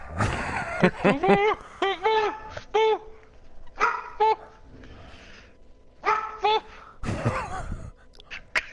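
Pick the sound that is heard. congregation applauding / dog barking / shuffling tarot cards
dog barking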